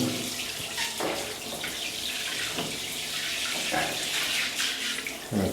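A shower in a budget hotel apartment in Pattaya runs at full flow, a steady hiss of spraying water with a few brief clunks, close and moderately loud.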